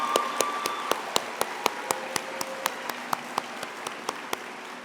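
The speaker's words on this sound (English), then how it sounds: "We do all the clapping." Clapping at a commencement ceremony, a soft crowd applause bed with sharp, evenly spaced loud claps ringing out in a steady rhythm above it, close by.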